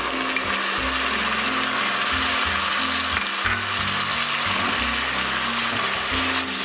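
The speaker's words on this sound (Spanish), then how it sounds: "Y sigo friendo." Tomato and onion frying in a pan for a white bean stew, a loud continuous close sizzle with rhythmic scraping and stirring throughout, no talk.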